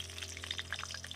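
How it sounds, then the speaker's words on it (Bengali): Potato pieces frying in a kadai for jackfruit (echor) kalia, a steady close sizzle with faint bubbling pops scattered through, no talk. "আমি এটাকে একদম ভেজে নেব"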